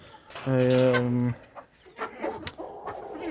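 A rooster crows once, fairly close, followed by soft clucking and scratching from hens.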